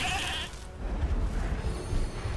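A goat in the Elder Scrolls Legends card game bleats over busy game effects and low rumbling noise, a short bleat near the start fading into the mix.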